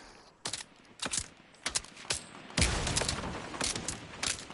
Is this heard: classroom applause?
no